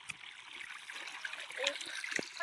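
Irrigation water trickles and gurgles across a field as grass and crops are watered, a steady close running flow with a few small splashes and clunks toward the end.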